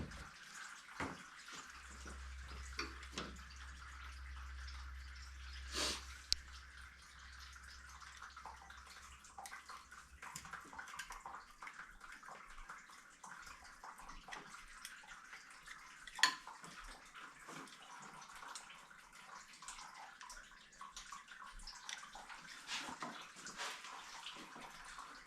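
Rusty-looking coolant drains and splashes from the freed radiator hoses of a 1999 Ford Mustang, a steady, fairly faint trickling and spattering of liquid with scattered drips and clunks, and no talk.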